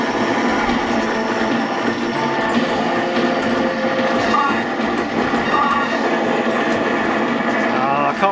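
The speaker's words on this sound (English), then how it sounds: "Oh, lovely stereo Afterburner sound." Sega Afterburner arcade cabinet game audio in stereo, a dense continuous roar of jet engine and effects sounds holding steady at high level throughout.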